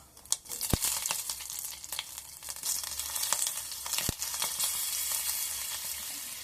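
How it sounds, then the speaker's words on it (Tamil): Mustard seeds, cumin and green chillies frying in oil for a toor dal sundal, giving a close, crackling sizzle with sharp pops scattered throughout and a few louder snaps. "கடுகு பொரிஞ்சுட்டு ஜீரகம், அப்புறம் பச்சை மிளகாய்"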